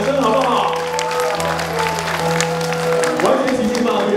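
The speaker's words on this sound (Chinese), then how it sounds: "来，来一个五万人的掌声好不好？" A large concert crowd of about fifty thousand people claps in a dense, steady patter, with some crowd noise and a low sustained tone underneath.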